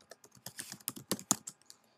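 Keys on a computer keyboard are typed in a quick, uneven burst of sharp close clicks lasting about two seconds, alone with no talking.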